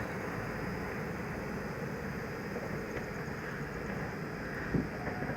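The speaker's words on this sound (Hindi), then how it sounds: "वो रही बनारस से चल के नई दिल्ली को जाने वाली शिव गंगा एक्सप्रेस" The Shiv Ganga Express, running from Banaras to New Delhi, rushes past at speed as a steady, dense rumble and rail roar that holds evenly throughout, with no voices.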